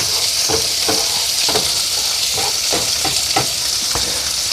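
Bacon and eggs frying over a fire on an outdoor camp stove by the shore of the Salton Sea, giving a loud, dense, continuous sizzle with scattered crackles and pops close by, no talking.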